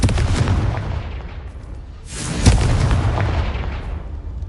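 Spell blasts from the Confringo fire spell in Hogwarts Legacy: two heavy booming explosions, the first rumbling and the second sharper with a deep impact, each followed by a long rolling decay, loud and alone.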